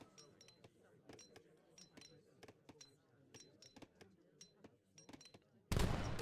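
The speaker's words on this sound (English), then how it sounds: "Boom, big Falconet shot goes off." Falconet artillery in Age of Empires III: a steady series of sharp, clicking battle hits and small shots ringing with metallic tones, then a sudden loud, dense blast near the end of the clip.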